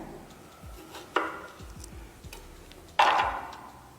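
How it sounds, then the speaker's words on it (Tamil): A knife cuts vegetables into long pieces on a cutting board in a home kitchen: two sharp, close strikes stand out among faint, irregular light ticks and taps. "இப்போ இதே போல் எல்லாத்தையும் கட் பண்ணி எடுத்துங்கம்மா"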